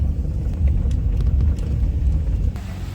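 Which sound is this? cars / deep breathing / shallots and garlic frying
cars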